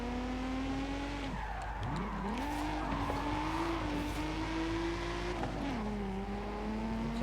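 Nissan Fairlady Z 300ZX with a Skyline engine sliding in Forza Horizon 5, its engine droning steadily while the tires skid and squeal through repeated turns, loud and continuous with no talking.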